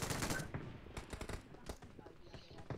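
Gunfire in the battle royale game BGMI, a shotgun among a stretch of dense rapid shots and cracks at moderate loudness, with a voice speaking over the shooting.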